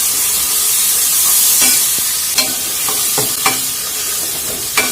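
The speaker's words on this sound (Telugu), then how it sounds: "ఉల్లిపాయ గసగసాలు చెక్క లవంగాయ ధనియాలు పేస్ట్ చేసుకోవాలి వేసుకొని బాగా ఫ్రై చేయాలి" Masala paste of onion, poppy seeds, cinnamon, cloves and coriander frying in oil in a pan for goat leg curry, a continuous hiss and sizzle with a few spoon taps and scrapes from stirring.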